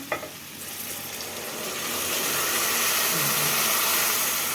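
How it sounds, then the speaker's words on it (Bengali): Carrots frying in ghee hiss and sizzle, the sound swelling into a broad, loud steaming roar as milk is poured into the hot pan. "এইবার আমি এতে এই দুধটা ঢেলে দেবো আর এই দুধটা মালাই টালাই যা আছে সবই ঢেলে দেবো"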